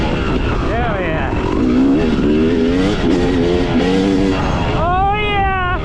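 A car engine pulls through rising, sweeping gears as the vehicle accelerates on a holiday-weekend drive, loud and steady from inside the cabin, with people talking and whooping over it.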